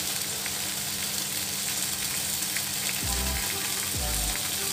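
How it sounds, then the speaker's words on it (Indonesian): Chicken frying skin side down in a hot pan gives a steady, dense sizzle throughout, close and fairly loud, with a couple of low thumps near the end and no talk. "Nah, ini jika sudah panas, kita letakkan ayamnya itu dengan posisi kulit di bawah."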